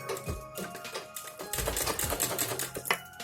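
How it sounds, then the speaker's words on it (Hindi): Sewing machine stitching around the curve of a round neckline, run in short stop-start bursts: rapid mechanical clatter pausing and resuming, close and fairly quiet. "गले की गोलाई में स्टिच करनी है, इसीलिए मशीन को थोड़ा रोक रोक कर चलाना पड़ता है।"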